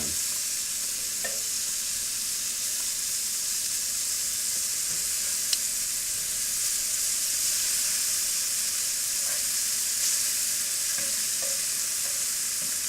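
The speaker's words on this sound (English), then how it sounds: "we're not frying them in deep oil here. There's just enough oil to cover the bottom of the pan." Venison frying in shallow oil in a pan, giving off a steady close sizzle and hiss throughout, with a few faint clicks and scrapes and no talking.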